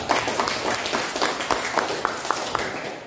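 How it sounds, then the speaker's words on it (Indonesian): A small classroom group claps briefly, the hand claps light and uneven, with faint room murmur underneath. "Kita berikan dulu tepuk tangan untuk kelompok visual"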